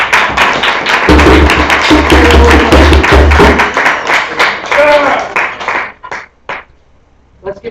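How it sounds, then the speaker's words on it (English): Dense applause from a poetry reading audience fills the first few seconds, mixed with a voice talking over it. It thins out into scattered claps and quiet by the end. "Let's give a round of applause just to Jeremy"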